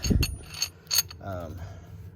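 A jack lifts the front of a 1966 Buick Electra 225 coupe, giving a few close mechanical clanks followed by a short ratcheting creak as it raises the car.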